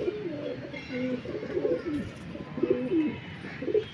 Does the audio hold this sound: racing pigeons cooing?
yes